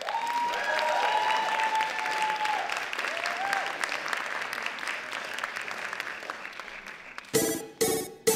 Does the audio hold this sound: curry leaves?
no